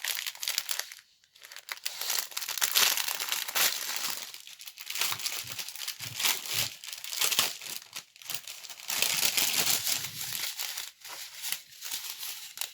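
Close, crackly crinkling of plastic zip bags being squeezed and handled, continuous with brief pauses, and nobody speaking.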